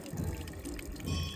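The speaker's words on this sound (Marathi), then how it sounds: "इथं हे बघा नॅचरल पाणी." Natural water flowing at a temple spot where visitors wash their feet, a steady close rush and splash running through the whole short stretch with no talk.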